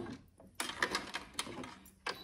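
A sewing machine stitches fabric for a budget envelope in short bursts of rapid mechanical whirring separated by brief pauses, close and moderately loud with no talking.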